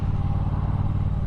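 Triumph Bobber Black motorcycle engine at low revs, the throttle rolled gently on and off, giving a steady lumpy low-pitched thrum with a slight judder throughout, close and continuous.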